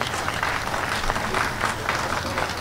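Audience clapping at an outdoor memorial, a dense, steady patter of many hands filling the short stretch at moderate loudness, with no words spoken over it.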